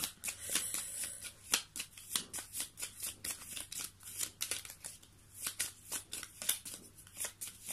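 Tarot cards shuffled by hand in a quick, continuous run of crisp riffling flutters and soft taps, close and fairly quiet, with no talking.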